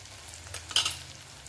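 Onions frying in a pan on a lowered gas flame as red chilli powder and other spices go in, a steady close sizzle with a brief louder burst of stirring near the middle.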